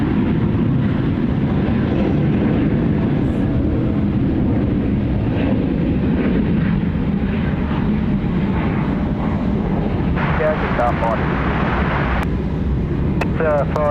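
A USAF KC-135 tanker departs Sydney Airport, its jet engines making a steady, loud broadband roar that holds throughout, with faint chirping sounds briefly near the end and someone talking over it.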